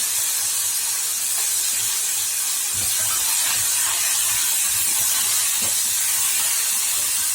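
Small onions and homegrown brinjal sauté in a hot pan, a steady loud sizzling hiss running throughout with faint clinks, no talking.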